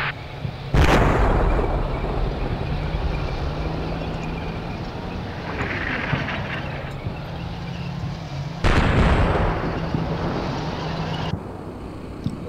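Artillery fire in the video game Combat Mission Shock Force: two heavy booming blasts several seconds apart, each with a long rumbling tail over a low steady background hum.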